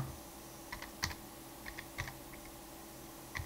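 Soft clicks of keys on a computer keyboard come in short, irregular bursts, quiet and close, with no voices.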